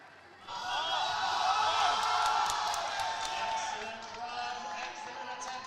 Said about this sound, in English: Lots of hype from the crowd for Ben.